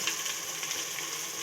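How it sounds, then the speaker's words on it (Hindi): Ginger garlic paste sizzling and frying in a pot while cooking beef nihari, a steady soft hiss with faint crackles throughout, no voices. "अच्छी तरह से इस पेस्ट को हमने भूनना है।"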